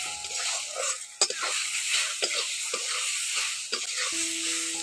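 Raw mango pieces frying in a pan with salt and turmeric, a steady close sizzle under repeated scraping stirs of a spatula, with no talking.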